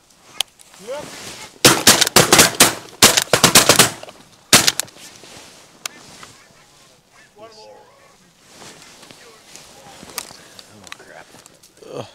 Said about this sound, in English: And those 2 shots go quick.